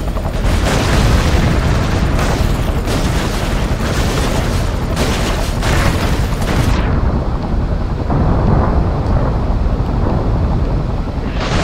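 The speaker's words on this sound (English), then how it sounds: "So many explosions" Explosions fill the Broforce video game, a dense, loud, continuous roar of booms and blasts throughout, with no talking.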